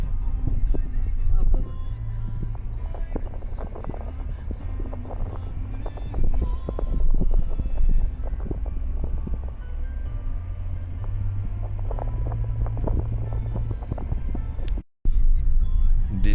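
A car driving through a quiet town at night in Miri, heard from inside as a steady low engine and road rumble with wind noise, a few soft bumps and knocks, and a brief dropout near the end.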